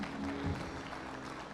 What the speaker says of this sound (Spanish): Vamos a darle el aplauso al Señor.